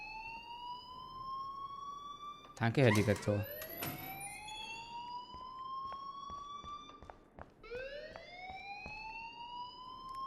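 A school alarm rings in Life is Strange, a steady electronic tone with rising sweeps, broken by a burst of louder clatter and noise, while someone speaks over it.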